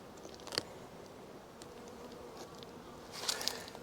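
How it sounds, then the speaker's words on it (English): Honeybees hum on a candy board inside a hive, a close, steady insect buzz with a few sharper clicks and knocks from handling the hive, and no talking. "see how many bees are on this candy board"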